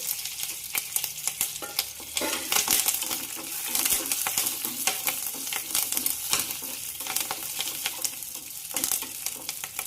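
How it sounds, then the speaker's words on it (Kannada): Curry leaves and a couple of garlic cloves fry in hot oil for a mango rice dish, giving a dense, steady crackling sizzle with scattered sharp pops and spatters, close and loud throughout. "ಎಣ್ಣೆ ಕಾದೈತಿ. ಒಂದು ಸ್ವಲ್ಪ ಕರಿಬೇವು ಸೊಪ್ಪು ಹಾಕ್ತಾನು. ಒಂದೆರಡು ಬೆಳ್ಳುಳ್ಳಿ ಸುರಿದಿಟ್ಕೊಂಡೇನು, ಅದನ್ನ ಹಾಕ್ತಾನು."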